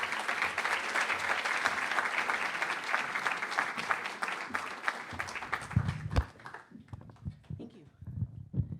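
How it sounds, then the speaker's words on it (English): An audience claps and cheers for a speaker being introduced at a Boston College event, dense sustained applause that thins and fades out after about six seconds into scattered claps and room noise. "Let's give a big round of applause for Yvonne Castaneda."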